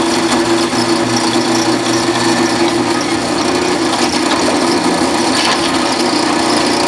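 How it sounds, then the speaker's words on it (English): A power drill bores holes for brackets in a workshop during a rat rod build, its motor whining steadily and loudly close by with no break for the whole stretch. "This is how I drill all the holes for the brackets."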